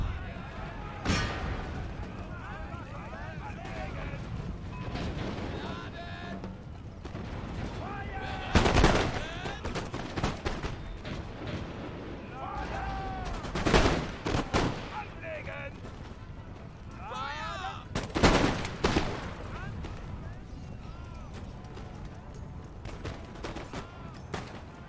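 Massed musket volleys from troops in an Empire: Total War battle with Prussian forces, crackling fusillades that swell into several loud bursts and scattered shots, with voices and battlefield noise underneath throughout.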